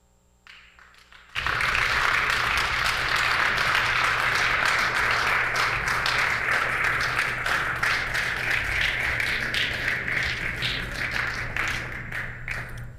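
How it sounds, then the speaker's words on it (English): After a brief quiet moment, a legislative chamber bursts into sustained applause from many people, loud and even, slowly tapering near the end. "stand and applaud those who deserve the applause"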